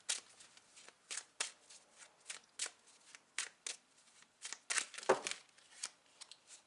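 Tarot cards shuffled by hand in a steady series of crisp, papery riffling bursts, close and fairly quiet, with a brief louder flurry near the end and no talking.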